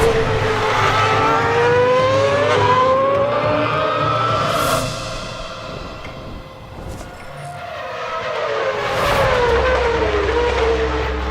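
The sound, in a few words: Red Bull Racing RB8 Formula 1 car driving on track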